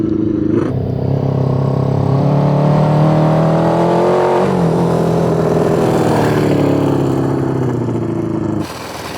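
A Honda CB350F motorcycle fitted with a backyard big bore kit revs up close, its engine note climbing and falling in a loud sustained drone before cutting back near the end.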